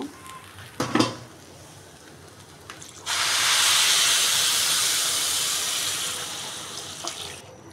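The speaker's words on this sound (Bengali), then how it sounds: "এখন আমি এখানে পানি দিয়ে দিব।" Water poured into a pot of fried rice and lentils for khichuri. A couple of sharp clinks come first, then a loud, steady rushing hiss of water hitting the hot pot lasts several seconds before fading.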